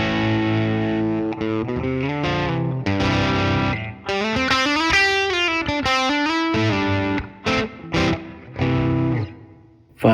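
An electric guitar through a Tube Screamer 808 overdrive on a Line 6 HX Stomp, bridge pickup, plays a melodic run of sustained, crunchy notes and bends, loud and clear, ending with a few short stabs.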